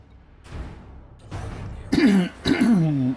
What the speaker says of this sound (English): A lot of coughing.